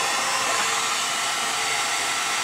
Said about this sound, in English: more shrink wrapping with the heat gun